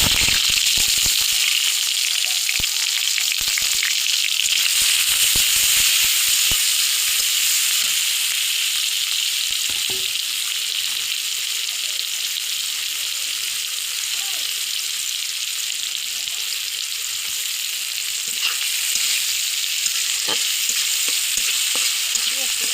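Fish frying in hot oil in a wok, giving a dense, continuous crackling sizzle with bursts of spitting oil. It stays loud and close throughout, with no talk over it.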